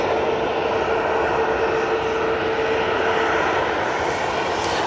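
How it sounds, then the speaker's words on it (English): A TUI Boeing 737-800 airliner taxiing at Manchester Airport gives off a loud, steady jet engine roar with a thin whine through it, close and unbroken for the whole stretch. "coming down Bravo, we've got a TUI. It's a 737-800, and that will be going off to Larnaca."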